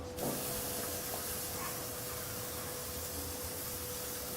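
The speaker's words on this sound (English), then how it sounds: "Once we create that sear, we're going to move it over to low heat to let it cook the rest." Ribeye steak searing on a hot grill gives a steady, broad hiss that holds evenly throughout, close and moderately loud, with no one talking.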